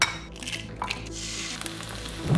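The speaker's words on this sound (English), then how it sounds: "and start frying some eggs" Eggs frying in a pan in a home kitchen, a steady close sizzle with faint crackle throughout and a soft clink of pan or utensil near the end, no voices.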